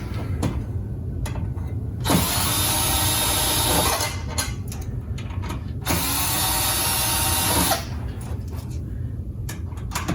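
Screws are backed out of the crossbar of a Tempo AVSFSS aesthetic insert, with two sustained whirring, ratcheting bursts from a driver set between quieter clicks and handling noises nearby.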